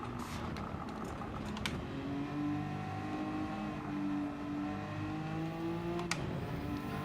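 A race car engine in a video game whines steadily with shifting pitch, fairly quiet, alongside scattered clicks like keys or buttons being pressed.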